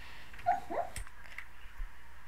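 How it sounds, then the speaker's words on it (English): A sleeping dog having a bad dream gives a couple of short, high whimpers and a soft yip, then faint muffled snuffles over quiet room hum. "This poor dog was having a bad dream."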